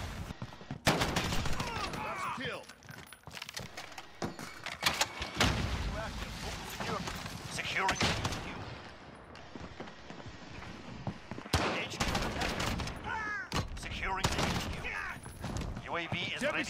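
Gunfire in a hardcore-mode multiplayer shooter video game: repeated bursts and rapid volleys of shots crackle loud and close throughout, with people talking over the shooting.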